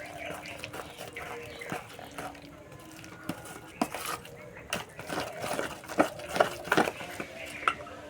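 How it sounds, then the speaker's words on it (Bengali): A spoon works salted batter around a bowl, producing soft wet squishing with repeated clinks and scrapes against the sides, close and steady, growing busier toward the end. "ভালো করে মিশিয়ে নেব"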